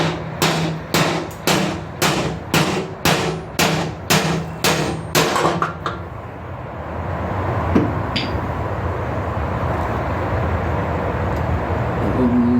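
Lawn mower cutting deck spindles being tapped out: about a dozen sharp metallic hammer strikes in an even rhythm, followed by a steady low background rumble with a single faint clink.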